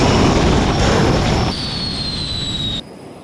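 A car fitted with a jet aircraft engine roars loudly nearby, a harsh broadband blast with a high steady whine on top that steps down in volume twice before it cuts back.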